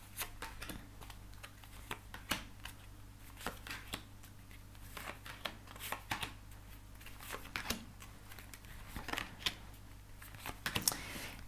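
Tarot cards being shuffled and drawn during a reading, giving soft papery riffles and irregular flicks and taps that come and go across the whole stretch, close by, with no talk.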